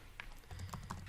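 Typing in Microsoft Word on a computer keyboard: a few faint, soft key taps in a short burst over low background noise, no talking.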